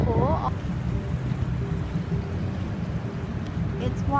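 Water washes and churns steadily near the shore in San Francisco, a loud, continuous rush mixed with wind buffeting the microphone, with a brief voice at the start.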